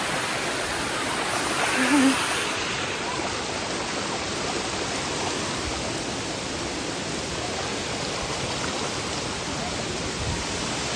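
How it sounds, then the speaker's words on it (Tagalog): Paadjao Falls, a waterfall in Marinduque, pours in a steady, broadband roar that holds constant throughout, with a brief bump of nearby activity early on. "Ganda ng falls"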